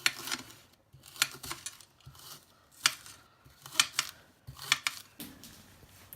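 A knife chops spring onions on a board in irregular clusters of sharp, crisp taps and thuds, close and clear, with short pauses between bursts and no talking.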